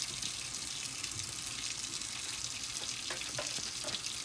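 Very hot water pours steadily into a water bottle, a continuous hissing, splashing rush heard close and fairly quiet, without any talking.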